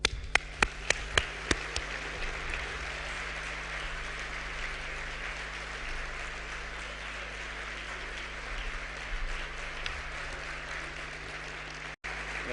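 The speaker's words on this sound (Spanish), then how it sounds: "cedo la palabra y el atril a Vicente González Elizondo Ibáñez, para quien solicito un fuerte aplauso" An audience applauds steadily for a speaker at a cultural association tribute event, dense clapping sustained throughout with a few sharp louder claps near the start, moderately distant and without talk.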